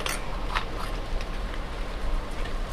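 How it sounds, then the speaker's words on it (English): Steady rain falls outside, heard as a constant broadband hiss with scattered drop ticks all the way through, moderately loud and close, with no voices over it. "can you hear the rain? It is getting a little heavier."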